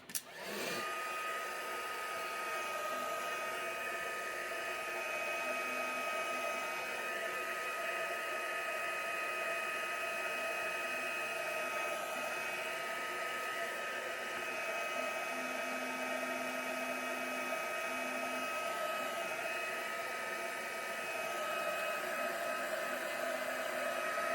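A hair dryer blowing over a wet acrylic sunflower-field painting, a close, loud, steady whine and rush of air that switches on abruptly and runs unbroken throughout.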